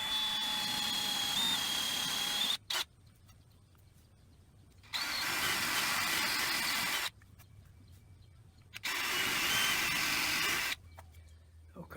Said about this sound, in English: So I'm going to try and take as much of this out as I can with a drill